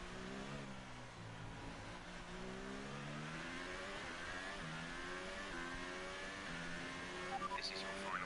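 F1 race car engine in a video game, racing at the Belgian circuit, droning steadily and shifting pitch as it rounds a corner on the final lap, with speech over it throughout.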